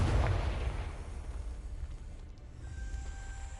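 A Confringo explosive spell blast in the Hogwarts Legacy video game bursts loud at the start, a heavy low boom that decays into a rumbling tail with a faint tonal hum toward the end.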